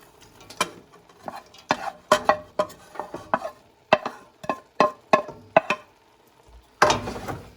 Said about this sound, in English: Keep stir frying, keep mixing it up.